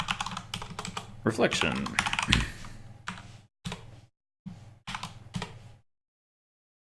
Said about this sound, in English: This one's going to take quite a bit of typing, so let me jam it in